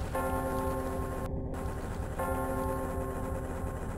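Church bells in the video game Tomb Raider II Remastered, sustained ringing tones that swell and hang over a steady game backdrop, cutting out briefly before returning.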